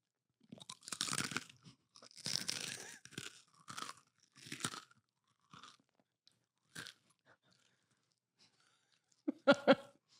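Low-carb cheese wisps crunch in several close bursts separated by silent pauses, ending in a louder crackling bite, with no talk over them.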